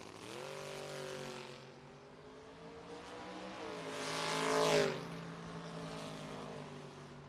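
Drag racing cars, a Mercury Capri and a Mustang, roar down the strip with rising and falling engine pitch, one surging loudly past before fading, heard from a distance with no talk.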